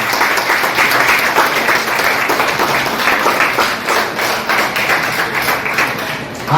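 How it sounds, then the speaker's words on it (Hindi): Large crowd at a public gathering in Mathura clapping hard in welcome, a loud, continuous and evenly dense roar of claps that holds steady throughout. "जोरदार ताली बजाकर उनका स्वागत जरूर है"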